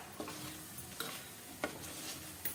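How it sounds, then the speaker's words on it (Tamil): A spoon stirs halwa with ghee and roasted cashews in a pan, giving four soft scraping strokes at a steady pace over a faint sizzle, quiet and close, no voices. "சேர்த்துட்டு திருப்பி கிளறி விட்டுடலாம்"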